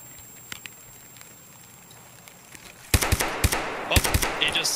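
Gunfire from the video game Escape From Tarkov: faint scattered pops early, then a burst of louder, rapid sharp shots with crackling echoes in the second half, without speech.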